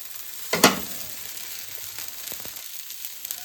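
A ghavane, a Konkan rice crepe, sizzles on a hot pan right after being flipped, giving a sharp hiss burst at the flip and then a soft steady crackle with a few small pops.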